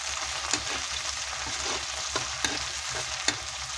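Buwa-buwa sautéing in a pan, a steady loud sizzle with a low hum beneath and a few sharp clicks of a utensil stirring against the pan.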